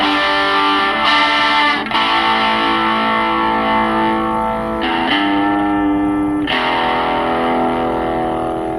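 Sustained distorted chords from a Tostar electric guitar with P90 pickups ring out, their brightness shifting as the tone knob is turned, darkening and opening up between strums.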